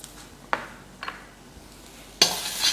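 Garlic and ginger being stir-fried in a little oil over a low flame, a few separate scraping stirs and bursts of sizzling, the last one louder and sustained, with no talking.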